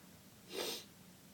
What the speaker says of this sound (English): not crying, by the way, I'm just sniffling.